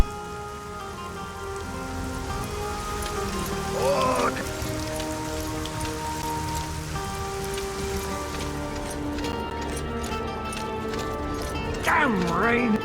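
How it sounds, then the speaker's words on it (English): Rain pattering steadily in the Arcania: Gothic 4 game world, a continuous hiss of drops on surfaces with a horse's hooves clopping and a couple of brief whinnies rising above it. "Damn rain!"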